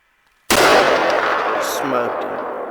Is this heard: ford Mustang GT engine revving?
no